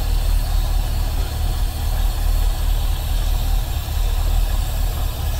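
A Rover P6 V8 with an automatic gearbox idles steadily up close, a dense, even low-end rumble running throughout with no talk over it.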